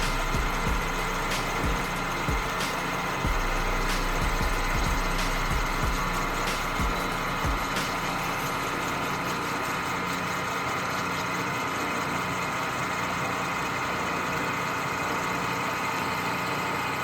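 A lathe turns bushings down to 1.25 inches, its motor giving a steady, even hum with a few light knocks early on, running alone with no talk.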